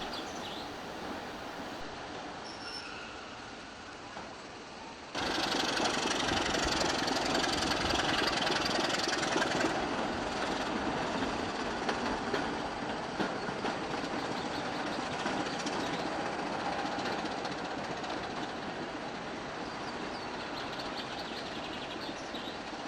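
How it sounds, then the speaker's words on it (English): A British Rail Class 27 diesel locomotive, 27052, running light into tunnels: a steady mid-pitched engine throb that grows suddenly louder after a few seconds, then rumbles on continuously without talk. "It runs light into the tunnels before backing onto the rake of stock that has just arrived."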